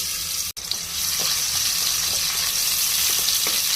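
Chopped onions hit hot oil in a pot for a prawn and pumpkin curry, giving a steady, dense sizzle that holds fairly loud throughout after a brief dip near the start.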